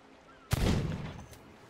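A single sharp, loud gunshot in the pirate video game Sea of Thieves cracks out and rings briefly, followed by a fainter second report about a second later.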